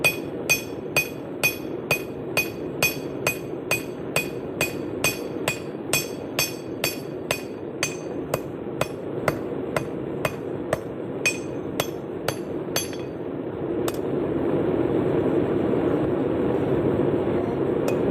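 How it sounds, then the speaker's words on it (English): A switchback hammer forges metal with evenly spaced, sharp ringing blows, about two per second, over a steady rumble of machinery. The strikes stop near the end, leaving a louder background hum and no talking. "Switchback hammer, different hammer."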